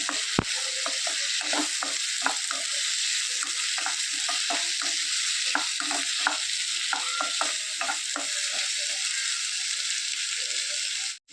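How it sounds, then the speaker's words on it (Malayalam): Bitter gourd roast is stirred in a pan after tamarind juice goes in, with a steady loud sizzle under repeated quick scraping strokes, close up and continuous, with no talking. "നന്നായിട്ട് ഇളക്കി യോജിപ്പിക്കുക"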